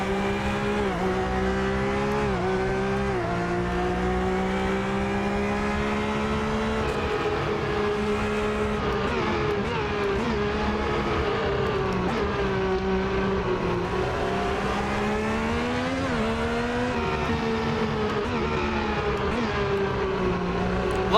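Ferrari F50 engine in the Assetto Corsa racing game, a loud, continuous high-pitched wail that rises and falls through shifts and revs as the car runs flat out toward a braking zone, with no voices.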